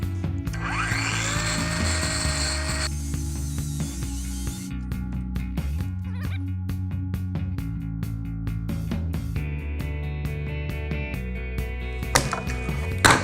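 A timber plank from a recycled drinks crate is ripped down the middle with a power saw, a loud, continuous machine whine with shifting cutting tones running steadily throughout, close by and with no talking.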